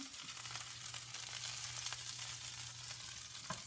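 Meat searing in a hot pan for Bosnian lonac stew, a steady dense sizzle with a low hum underneath and a couple of faint clicks, close and continuous without talk.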